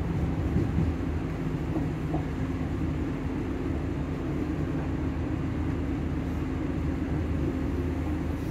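Steady low rumble of a passenger train running between Bathgate and Coatbridge Sunnyside, heard from inside the carriage as an even, continuous drone with no talk.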